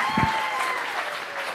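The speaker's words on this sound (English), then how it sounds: "Round of applause for Ramin." Audience applause at a comedy club's funniest-person competition in Austin, a broad steady wash of clapping that stays loud and even for the whole short stretch, with no speech over it.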